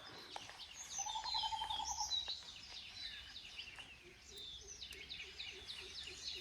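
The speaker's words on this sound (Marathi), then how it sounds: "आवाज कसे येतात पक्ष्यांचे." Birds call outdoors in the village countryside: a string of faint, high chirps and tweets, then a softer repeated call pattern toward the end, with no talking.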